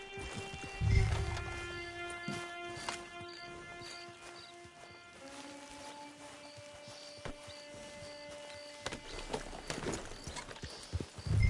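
Horse hooves clip-clopping in the video game Red Dead Online, a soft, irregular plodding of hooves over a steady game ambience with tonal music lines and occasional thuds.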